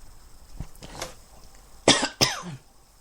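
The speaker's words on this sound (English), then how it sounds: "Sorry, I'm still coughing." A person coughs two sharp, close coughs in quick succession, preceded by a few softer breathy throat sounds in an otherwise quiet room.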